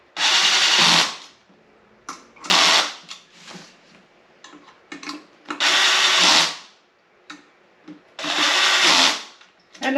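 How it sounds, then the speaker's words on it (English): Bolts on a mesh office chair are tightened in short, loud whirring bursts, several spaced apart with quieter clicks and handling noises between them. "now we're going to run along and just tighten them all down"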